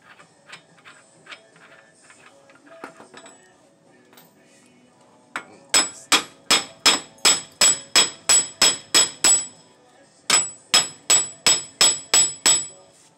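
A hammer taps around the wheel bearing hub of a 2008 Impala to work it loose. After a few quiet seconds, two runs of sharp, ringing metallic strikes follow in a quick, steady rhythm, close and loud, with a short pause between them.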